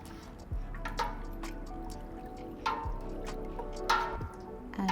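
Turmeric dye being stirred into water in a pot at home, with a few soft liquid drips and light splashy clinks spaced out over a low background hum.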